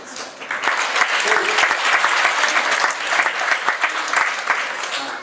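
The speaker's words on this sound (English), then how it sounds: "I'd like a round of applause also for everyone who will be entertaining you tonight" A crowd at a Chinese students' New Year gala in Belfast applauds the evening's performers, a loud, lively burst of clapping that holds steady with scattered sharper claps and faint voices mixed in.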